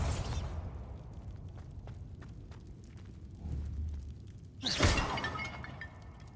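Two sharp, shattering blasts from the Bombarda spell in Hogwarts Legacy, one at the start and another a few seconds later, stand out over a quiet, low rumbling background.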